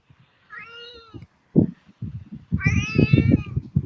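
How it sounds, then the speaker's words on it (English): A cat meows twice, a shorter plaintive call followed by a louder, drawn-out one, heard close up over soft background rustling and handling noises. "That's cat."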